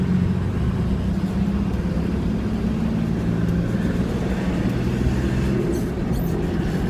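A 2003 Toyota Land Cruiser 70 Troop Carrier drives along a motorway, its loud steady engine drone and road rumble filling the cabin continuously without a break.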